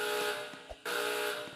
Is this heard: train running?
no